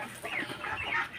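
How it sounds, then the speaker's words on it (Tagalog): Large farm chickens pecking at feed give a brief, faint burst of soft clucking, a few quick notes over low background noise. "yung mga malalaking manok, tinutuka sila."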